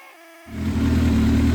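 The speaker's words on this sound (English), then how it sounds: "I don't know if you can hear me over this, but I've got the fan blowing cool air on the radiator" A fan blows cool air onto the radiator of a running Kawasaki ZX7R motorcycle, starting abruptly after a brief quiet and settling into a steady, loud, close hum and rush with a low engine drone underneath.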